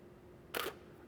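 A single sharp camera shutter click fires once from a Canon camera fitted with a Canon Speedlite 470EX-AI flash, brief and crisp against a quiet room.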